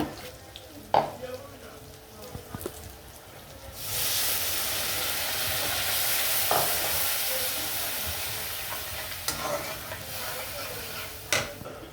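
Spice masala with turmeric and chili powder frying and being stirred in a pan for a Bengali fish curry, a steady hiss of sizzling swelling midway under scattered scraping knocks, with some talking.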